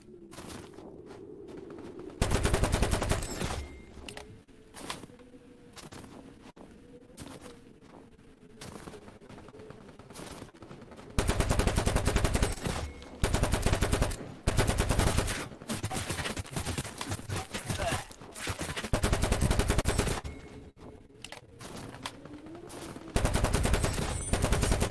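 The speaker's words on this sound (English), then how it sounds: "the MK18 is pretty much my main weapon" MK18 carbine fire in the tactical shooter Tip of the Spear: Task Force Elite, loud close bursts of rapid automatic shots in several long stretches separated by quieter pauses with distant shooting.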